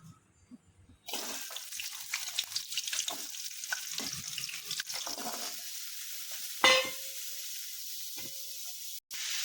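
Hot oil in a pan sizzles after a second of silence, a steady hiss with scattered crackles and stirring clatter, one sharp metallic knock near the end before it cuts off briefly.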